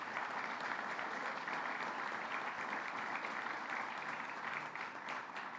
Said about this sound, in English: Basil Sagos, let's give him a round of applause